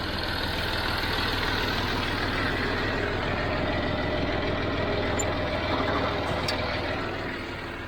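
John Deere 5055D tractor running with a Vicon fertilizer spreader attached, a steady low engine drone at constant revs, fairly near and continuous, with no talk.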